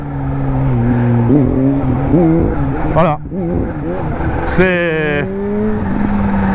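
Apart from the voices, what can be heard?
Kawasaki Z H2 motorcycle engine accelerating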